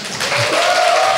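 Light, thin applause from a small audience at an aerospace career mentoring talk, brief and fairly soft, with a faint tone running underneath.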